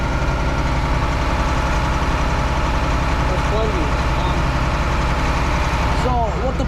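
Engine running a manure pump on a farm, a steady loud mechanical drone with constant vibration throughout.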